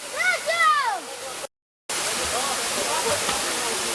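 A waterfall at the Kara Su natural beauty spot gives a steady, broad roar of falling water. A voice talks briefly over it at the start, then the sound cuts out for a moment before the roar returns alone.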